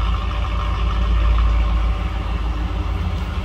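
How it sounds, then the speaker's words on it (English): A 1985 Chevrolet Camaro Z28 V8 idles with a steady, deep rumble through dual exhaust, loud and close, with a throaty low exhaust tone and no voices. "Dual exhaust. A little bit of a rumble."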